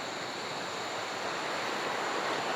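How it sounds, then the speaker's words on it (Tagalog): Steady rushing river water flows without a break, a broad continuous wash of noise with no voices, at a camping spot in Irosin, Sorsogon. "Na napakaganda pakinggan. Yung agos ng tubig."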